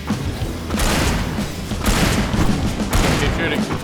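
Gunfire in the video game Alan Wake comes as loud, dense bursts of shots and booming impacts that overlap into a continuous barrage, with a voice talking over the action.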